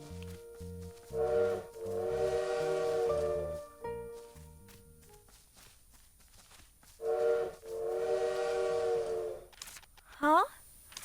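Inside the video game Little Witch in the Woods, a bird imitates a train, with chugging low pulses and tonal horn-like whistles in two separate bursts. A short rising chirp follows near the end.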